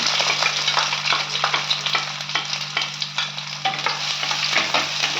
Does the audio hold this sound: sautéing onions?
yes